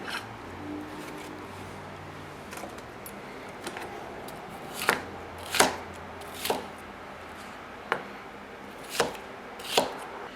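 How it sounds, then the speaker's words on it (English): Bell peppers roughly chopped on a cutting board, a handful of separate knife thuds, sparse at first and then spaced about a second apart, close-up over quiet room tone. "Once the peppers are cleaned, just roughly chop them."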